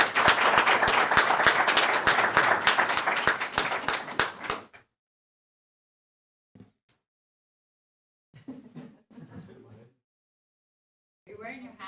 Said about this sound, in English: I would just ask that we give them a big round of applause.